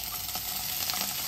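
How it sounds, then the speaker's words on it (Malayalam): Paneer fries in ghee in a pan, a soft, steady sizzle with faint crackles close by, brief and even, with no voices. "നെയ്യിലേക്ക് നമ്മൾ പനീർ ഇട്ടിട്ട് നമ്മൾ ചെറുതായിട്ട് ഒന്ന് ഫ്രൈ ചെയ്തെടുക്കുകയാണ്"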